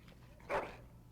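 A Mabari war dog in the Dragon Age: Origins video game gives a single short, close whimper over a low game hum.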